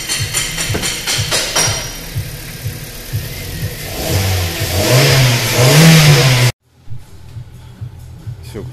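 Kia Sorento 3.5L engine with its catalytic converters knocked out, revving up loud and close with rising bursts before cutting off abruptly, then a faint idle afterward.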